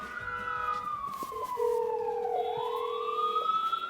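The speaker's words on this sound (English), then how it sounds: "I hope that the sirens aren't as constant as they are in this video" Emergency sirens wail through a noisy city street, several overlapping tones rising and falling at once, loud and continuous over a constant hum of traffic.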